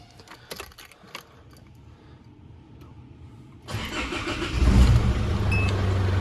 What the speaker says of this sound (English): So now if I turn the car on